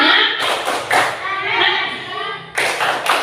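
Fifth-grade classroom clapping chant with children's voices, sharp rhythmic claps and thumps in a patterned beat mixed with loud chanting, close and lively, pausing briefly before the claps resume.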